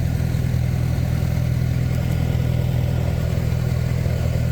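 A tractor engine runs steadily nearby, a constant low mechanical drone with no change in pitch, heard alone without talk.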